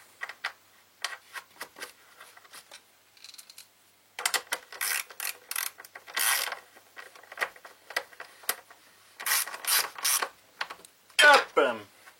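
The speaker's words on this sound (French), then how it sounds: "Donc, on va remettre le boulon." Someone refits a bolt on a Honda GCV 190 engine, making soft metallic clicks, small clatters and ratcheting bursts in irregular clusters at close range, with quiet gaps between.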